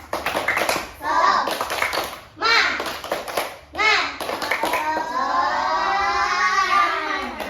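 Schoolchildren chant and clap in a rhythmic group cheer during a classroom lesson, several clapped bursts followed by a long shouted call, close and lively.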